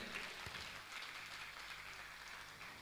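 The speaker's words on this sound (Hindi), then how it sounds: "जोरदार ताली बजाकर उनका सम्मान करें।" Audience applause at a Jain religious gathering honouring a donor, a steady dense wash of clapping throughout at moderate, distant level with no voices.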